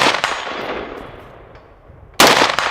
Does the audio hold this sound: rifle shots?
yes